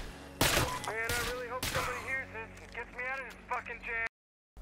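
Firearm shots ring out in State of Decay 2, with three sharp, loud bursts early on and a narrator talking over the rest of the gameplay.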